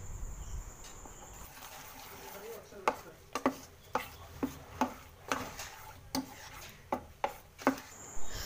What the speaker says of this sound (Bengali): এরপর সব কিছু ভালো করে চামচের সাহায্যে মেখে নেব